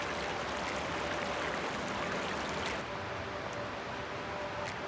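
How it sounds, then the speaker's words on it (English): A creek flows nearby in the open air, a soft, continuous rushing and trickling hiss that stays even throughout with no voices. "We are beside this beautiful creek."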